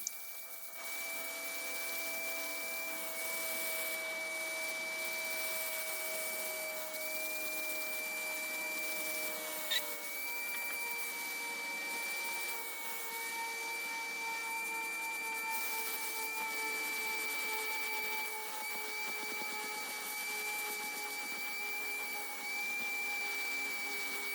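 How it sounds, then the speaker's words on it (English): A vacuum cleaner drones steadily and loudly for a long stretch with a high whine while cleaning a Scion FR-S car trunk, its pitch shifting slightly as it moves around. "we're just going to be vacuuming the remainder of the trunk"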